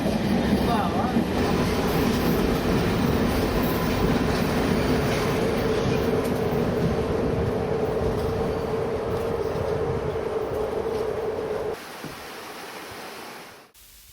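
A train rolls steadily through Kos station on the Bar–Belgrade line in the Dinaric Alps, a loud continuous rumble of wheels on rail with faint clatter, which drops off sharply near the end.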